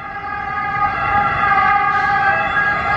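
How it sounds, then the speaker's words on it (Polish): A wailing ambulance siren sounds continuously below in an Italian street, fairly loud, its rising and falling tones steady over a constant background hum. "słychać karetkę, która gdzieś tam na dole jedzie, która ma taką specyficzną syrenę"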